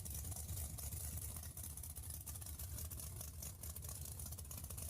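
A 632 cubic inch V8 car engine in a video game runs steadily at a loud, continuous idle with a deep, throbbing low rumble, heard up close and on its own with no talking.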